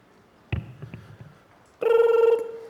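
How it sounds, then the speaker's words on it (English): Telephone ringing as a comedy sound effect in a stand-up routine: a sharp thump, some faint clatter, then a loud electronic ring burst lasting about half a second. "This is the phone ringing in heaven."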